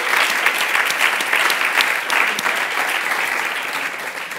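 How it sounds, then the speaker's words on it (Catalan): Dense, steady applause from a conference audience in Barcelona, rewarding a presenter's project, with many hands clapping close together at a strong level that eases slightly toward the end. "El que sí que tens és aquest aplaudiment pel teu projecte."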